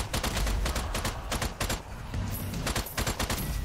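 Rapid gunfire in the video game Strange Brigade, a dense burst of repeated shots in quick succession, loud and close, continuing almost without pause.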